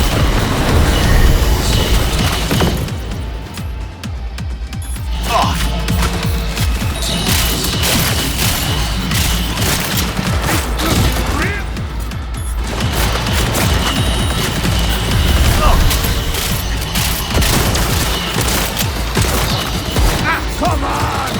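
A Panzer turret in Cyberpunk 2077 Phantom Liberty opens up in a dense firefight, with rapid heavy shots, booms and crashes crowding one another throughout. The battle noise stays loud and continuous.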